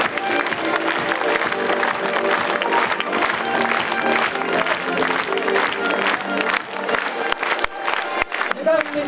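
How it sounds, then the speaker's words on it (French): A large crowd at a political rally for a candidate, applauding loudly with some cheering; the dense clapping holds steady, then breaks up near the end as a voice comes in. "toujours sous vos applaudissements"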